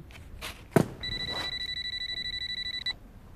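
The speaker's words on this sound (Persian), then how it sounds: "چرا گوشی رو بر نمیداری؟" A telephone rings in a scene from an Iranian TV drama, a steady electronic trill repeating in rapid pulses for about two seconds after a brief thump, fairly close and clear with no talk over it.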